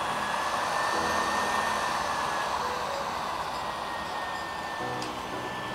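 A Yihua 858D hot air solder blower runs at 400 degrees with airflow set to 8, giving a steady, close, loud rushing hiss that holds unbroken from start to finish.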